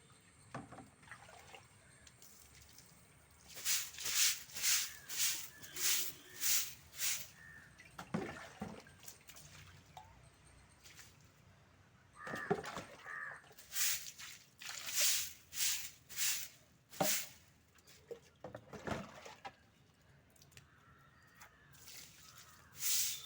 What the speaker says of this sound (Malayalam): ഇനി നമുക്കത് ചൂലുകൊണ്ട് വെള്ളം ഒഴിച്ച് കഴുകി നോക്കാം